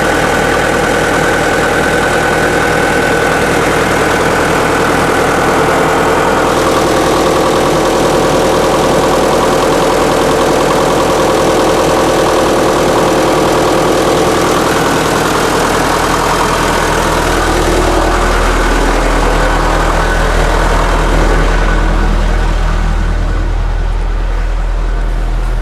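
An International Harvester UD9 diesel generator set engine running at full load, with a loud, continuous, steady exhaust drone that changes tone slightly toward the end and never drops out.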